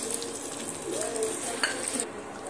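Sliced pointed gourd frying with strained white mustard paste, a soft sizzle under faint clinks of a utensil against the pan, fairly quiet and close.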